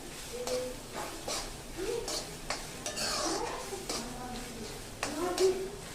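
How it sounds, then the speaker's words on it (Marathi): Onions for Bombay-style pav bhaji stirred and sautéed in a pan, with a quiet sizzle and repeated spatula scrapes and taps close by, and a faint voice in the background. "हे बघा कांदा छान परतला गेलेला आहे. अजून थोडासा परतून घेऊया आपण."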